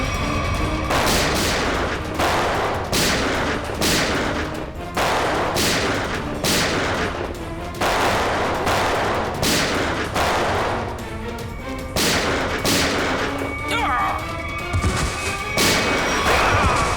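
Heavy gunfire in a crime-drama shootout, with loud rapid bursts of shots repeating steadily across the whole stretch over a dense, continuous din.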